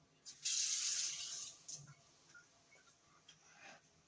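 Water is poured into a pressure cooker in one short, quiet splash lasting about a second, followed by faint taps and clinks in a calm room.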